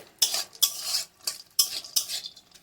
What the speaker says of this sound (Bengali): কাজু আর কিশমিশটাকে ভেজে নিয়ে নামিয়ে নেবো